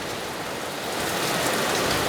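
Heavy storm rain pouring down and striking a window, a dense, continuous hiss of drops growing slightly louder, close and steady with no voices.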